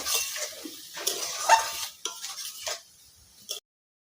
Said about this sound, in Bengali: এই সর্ষে ধোয়া জল অল্প দিয়ে ভালো করে কষিয়ে নিব।